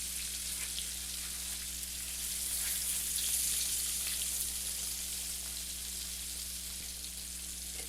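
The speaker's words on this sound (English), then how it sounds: "I like cooking in the cast iron skillet when I'm frying chicken" Chicken frying in oil in a cast iron skillet, a soft steady sizzle and crackle with faint low kitchen hum, continuous and fairly quiet.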